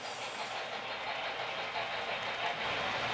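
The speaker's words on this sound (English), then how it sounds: "Here we are following the train through the countryside." An HO gauge model train rolls steadily along its track with a constant whirring rumble and faint clicking, no voices.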